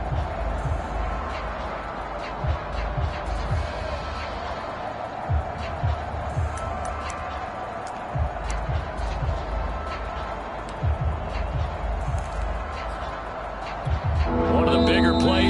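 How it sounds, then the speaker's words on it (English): A steady roar from an American football stadium crowd in New Orleans builds ahead of a big third down late in the game, a dense wash of noise under a commentator's voice. "the crowd getting into it as we come up on a big 3rd down"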